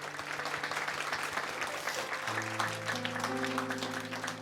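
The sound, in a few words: audience applause for a church deacon's testimony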